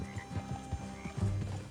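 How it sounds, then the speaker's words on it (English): Horses in the Red Dead Redemption 2 video game clip-clop in a steady rhythm of hoof knocks, fairly faint against a low ambient background, with no voices. "Let's leave the horses here and take a look."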